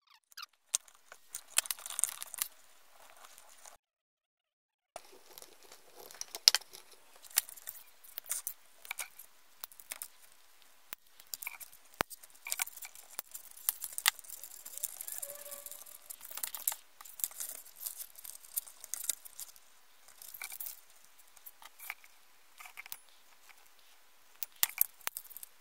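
Bundle of PC power supply wires being untangled and sorted while converting a PC power supply into a lab bench supply: irregular close crinkling, rustling and light clicking handling noises with short pauses, no talk.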